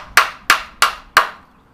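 An insert nut is tapped into a drilled pilot hole, giving four sharp, evenly spaced hammer taps that ring briefly and come loud and close, with no voices.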